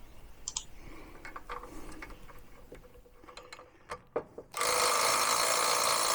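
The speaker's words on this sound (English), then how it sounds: "This is how quick it can go wrong with the impact driver." A cordless impact driver bursts on loud and steady near the end, driving a bolt with washers into a Craftsman zero-turn riding mower, after a stretch of scattered light clicks and knocks.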